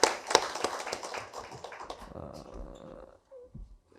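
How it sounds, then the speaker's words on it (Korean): Church congregation at a Sunday evening worship service giving a round of applause for the worship team, a dense patter of clapping that fades out after about three seconds, with a few taps and faint murmurs at the end. "찬양단 위하여서 다시 한번 격려 박수하도록 하겠습니다"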